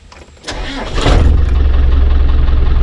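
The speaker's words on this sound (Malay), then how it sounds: "bila kita dah hidupkan enjin" A Land Rover engine cranks briefly, catches and fires up, settling into a loud steady idle close by.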